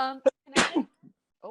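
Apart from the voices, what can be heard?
sneeze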